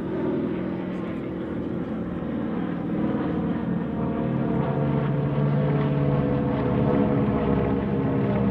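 Steady droning propeller engines of several vintage aircraft, including a Hurricane, T-6 and Beech AT-11, passing overhead in formation at an air show, a continuous low rumble with a voice talking over it throughout.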